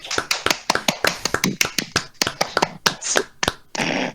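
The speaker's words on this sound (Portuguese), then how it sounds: "Bate palma aí, gente." A small group of people clap their hands for a podcast guest, sharp irregular claps close to the microphone, some tapping-like, tapering off near the end.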